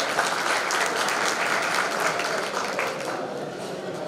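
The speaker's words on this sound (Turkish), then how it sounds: "Yalçın Kara alkışlayın lütfen." An audience claps at an anniversary-night gathering for a local newspaper in Kozan, a dense, continuous burst of applause that stays strong throughout and eases slightly toward the end.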